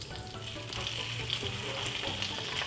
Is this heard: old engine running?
no